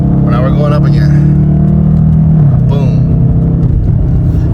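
A car's engine drones steadily at high revs under someone talking close by, then drops in pitch mid-clip as a paddle-shifter upshift engages, settling into a lower hum.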